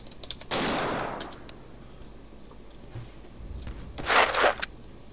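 Gunfire in the Dino D-Day video game: a loud shot with a trailing echo early on, then a quieter stretch before a second harsh, crackling burst of fire near the end.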